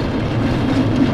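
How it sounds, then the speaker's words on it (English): Ride on a roller coaster in RollerCoaster Tycoon 3 giving a steady, train-like rumble and rattle of rolling cars, close and even throughout with no voices. "It sounds stupid, but it sounds just like a train."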